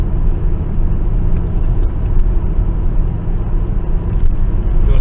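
A car with a trailer hitched behind cruises along a road at about 70 km/h, giving a steady, continuous engine hum and tyre rumble close by with no talking.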